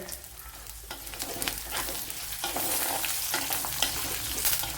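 Green chillies and curry leaves sizzling in hot oil in a pan, a steady close crackling fry with repeated scraping stirs throughout and no talking.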